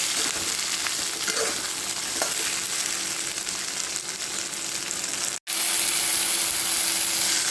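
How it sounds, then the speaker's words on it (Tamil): Crushed green turkey berries sautéing in a pan for a Tamil kara kuzhambu with brinjal, a steady close frying sizzle with scraping stir strokes, broken by a brief dropout near the end. "இந்த சமயத்தில் நம்ம தட்டி வச்சுருக்கிற பச்சை சுண்டைக்காய் அதையும் இதோடு சேர்த்துருவோம்"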